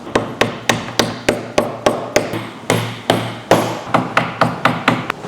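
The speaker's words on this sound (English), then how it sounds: "If you have a mallet or a hammer, that would help." A hammer or mallet strikes repeatedly during furniture assembly, about a dozen loud, sharp, close knocks in a steady rhythm with brief pauses, no talking.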